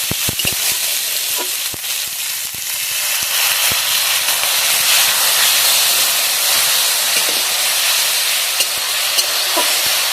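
Water goes into a frying crab masala curry and sets off a loud, close hiss of sizzle and steam that begins with a few sharp clatters, then holds steady and strong with no speech.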